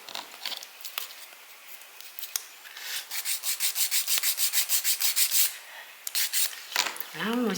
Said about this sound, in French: On va passer un coup de lime.